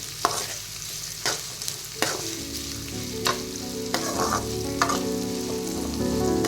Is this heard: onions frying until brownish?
yes